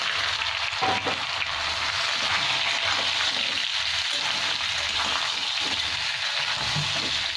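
Potatoes frying in a pan with spices for a masala arbi dish, giving a steady, dense hiss of sizzling oil that carries on evenly throughout.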